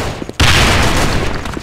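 Grenade going off in a multiplayer shooter match, a sudden loud blast after a brief quieter moment, followed by a rough crackling decay of gunfire-like noise.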